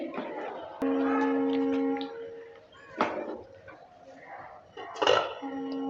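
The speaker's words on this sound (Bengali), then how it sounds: "জলটা দেওয়ার পর ভালো করে আবারও নেড়ে চেড়ে নিচ্ছি" Squash ghonta with Gobindobhog rice is stirred in a pan with a spatula, producing close scraping and clinking against the metal and a sustained ringing tone, in quiet surroundings.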